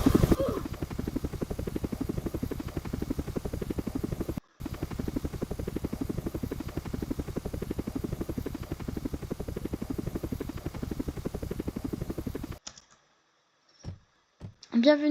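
Helicopter in the video game Life Together, a steady rotor-like mechanical drone running continuously with a brief cutout, then stopping into near silence with a few faint clicks.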